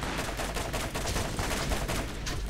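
Rapid gunfire from the Borderlands video game fills every moment, a dense, continuous fusillade of loud shots with no pauses or talk.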